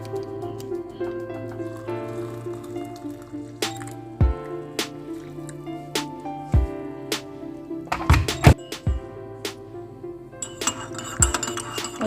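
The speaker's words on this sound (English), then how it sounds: "you just need to put hot water and you get a good cup of masala chai" Hot water is poured over masala tea powder in a cup at Karma Haathi Mahal in South Goa, with a soft liquid trickle broken by sharp clinks and knocks against the glass and dishes, and no talk.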